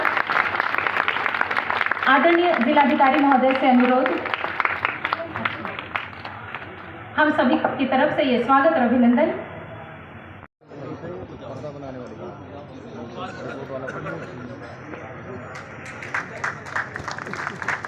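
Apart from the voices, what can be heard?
audience applause at welcome ceremony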